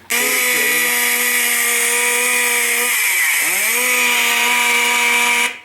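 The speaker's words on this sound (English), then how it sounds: "use it as a sound prop and eliminate a gas-powered chainsaw" A loud, continuous chainsaw-like engine whine from a prop chainsaw's built-in sound feature drones nearby for several seconds, dipping briefly in pitch midway before steadying again.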